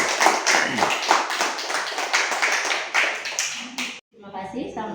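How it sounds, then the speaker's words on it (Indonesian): Hands clap in a show audience, loud and fairly close, thinning out near the end before a brief gap and some softer voices. "Tepuk tangan"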